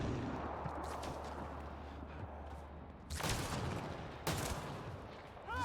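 Gunfire in Mass Effect: Andromeda: a busy rumble of shooting with two sharp, loud blasts a moment apart and no talking.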